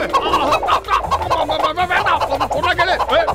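Cartoon chicken clucking in a busy animated scene, rapid squawky bursts packed closely together, loud and close, mixed with other cartoon sounds throughout.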